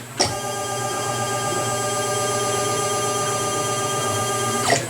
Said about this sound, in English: bring my cutter down to 0 and go straight across, swap the parts out, go straight across